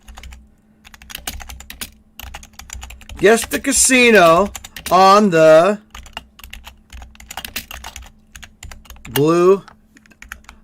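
Rapid clicks from a computer keyboard run throughout, close and steady, while someone talks over them in several bursts.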